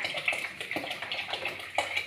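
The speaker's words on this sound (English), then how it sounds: "when it becomes thick, we add some water." Water is poured into a pot of thickening tamarind porridge in an African village kitchen, a soft, close splashing and trickling pour lasting a couple of seconds.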